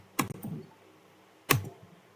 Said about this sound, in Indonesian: saya ngetik cd.